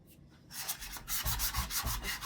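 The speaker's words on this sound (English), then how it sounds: "I'm gonna try a 60 grit, see what happens. With the wood grain." A wooden dresser is worked with 60 grit sandpaper along the grain: quick rhythmic back-and-forth scratchy rubbing strokes, close but fairly soft, following a brief quiet start, with no talk.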